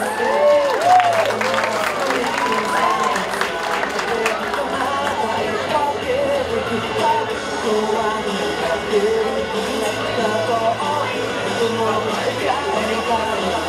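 An audience claps steadily through a Sunday cosplay parade at UP!ABC Orgulho Nerd, a dense and sustained patter with scattered cheers and murmuring chatter underneath.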